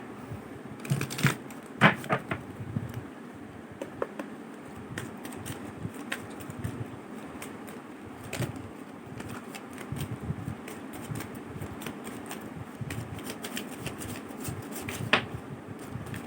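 A deck of tarot cards is shuffled by hand in a series of soft riffles and light snaps, close and moderately quiet, with no voices.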